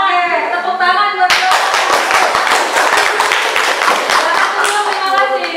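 A class of students in a chemistry lesson breaks into brisk, rhythmic group clapping after a short stretch of talking by a voice.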